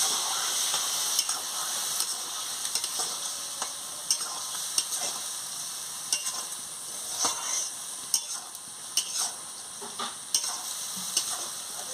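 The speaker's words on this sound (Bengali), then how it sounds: "এবার আমি কুমড়ো পাতার বাটাটাকে দিয়ে দিচ্ছি, দিয়ে ভালো করে কষিয়ে নিচ্ছি" Ground pumpkin leaf paste frying in a pan for a prawn dish, giving a steady, close sizzle with frequent scrapes and taps as it is stirred.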